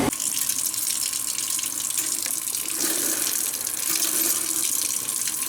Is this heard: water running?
yes